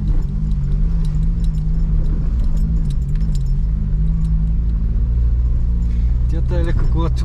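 A car engine pulls hard uphill in second gear on a mountain road toward the Kalin dam in Bulgaria's Rila mountains, with a loud, steady drone that barely changes and a voice briefly heard near the end.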